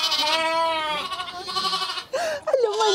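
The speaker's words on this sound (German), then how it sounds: "Ihr seid liebe Schafe, ihr seid richtig liebe Schafe." Sheep at lambing time give several close, loud bleats in a row. The bleats are long and wavering, with a brief pause before a final higher, rising call.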